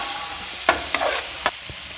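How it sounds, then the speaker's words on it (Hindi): Tomatoes with green onion and green chili being stirred and fried in a pan, a soft continuous sizzle broken by a few sharp spatula scrapes and clacks, close and quiet. "और हम इसको अच्छे तरीके से इस तरीके से भूनते जाएंगे।"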